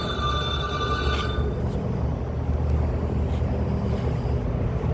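Phone ringing in a garage, an electronic ringtone of a couple of tonal bursts for about a second before cutting off, leaving a low background rumble of vehicles and shop noise.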